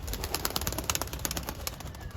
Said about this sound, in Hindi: अभी बड़ा कबूतर आने लगा बाहर, साथ काला बच्चा आने लगा है।